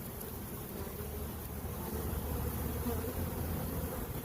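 A dense, steady buzzing of a honeybee swarm marching into a hive fills the air, continuous and close, with a low hum underneath and no voices.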